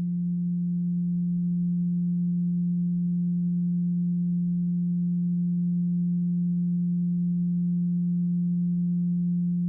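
A monotonous feedback tone from a sound experiment: a steady, unchanging low hum with faint overtones held evenly for the whole stretch, no variation in pitch or loudness and no voices.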